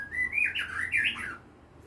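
A white-rumped shama (murai batu) gives one short, bright, clear rising and falling whistled chirp phrase during its night bath, close and alone against a faint low background hum.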